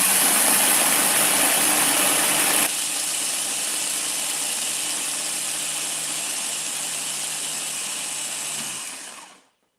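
A blender dry-blending oats into a powder runs with a loud, steady whirring roar. The pitch drops slightly early on, then the motor winds down to silence at the end.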